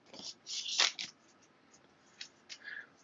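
A deck of cards is shuffled during a tabletop game, giving a few quick, faint riffling bursts close by in a quiet room, with a couple of soft, brief card flicks afterward.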